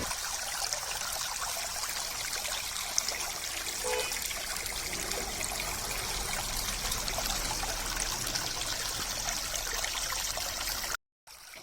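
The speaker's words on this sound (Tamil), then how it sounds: "காட்டிலேருந்து இப்போ தண்ணி கம்மாய்க்கு வந்துகிட்டே தான் இருக்குது" Water trickles steadily from a forest channel into a village pond, a continuous close, even gurgling flow with no voices, cutting off briefly near the end.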